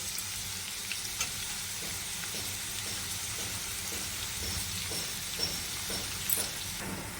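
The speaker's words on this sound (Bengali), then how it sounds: "আলু ভাজাটার ভেতরে আমি এবার পেঁয়াজ দিয়ে দেবো" Onion goes into potatoes frying in oil in a wok. A continuous bright sizzle carries soft, regular stirring scrapes and a few light knocks. It sounds close and moderately loud, and nobody speaks.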